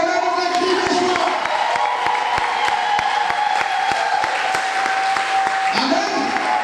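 A church congregation breaks into dense, steady applause mixed with cheering and joyful cries, a loud crowd sound that holds evenly all the way through.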